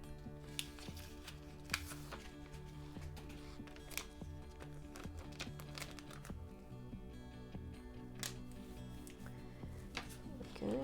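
Transfer tape is applied onto a happy birthday cake topper, producing quiet crinkling, peeling and rubbing sounds with occasional sharp taps close by.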